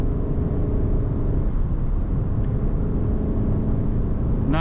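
A 2021 Porsche Cayenne Turbo Coupe cruising at high speed on the German Autobahn, with a steady, dense low cabin rumble of engine, tyres and wind that holds level throughout, no voices.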